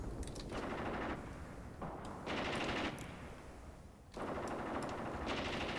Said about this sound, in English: That's a suppression by those machine guns